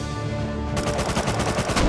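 Fast automatic gunfire in the survival game Rust, a tight burst of repeated shots cutting in sharply and rattling steadily for over a second, loud and close.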